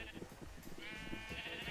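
Several Minecraft sheep bleat in the video game, with faint, wavering cries overlapping over a soft, busy background.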